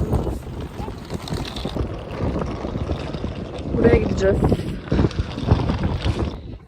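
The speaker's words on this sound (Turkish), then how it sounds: "Muhtemelen sesim gelmeyecek oraya çünkü çok rüzgar var." Strong wind buffets the microphone in loud rumbling gusts at a campsite while a person speaks briefly over it in Turkish.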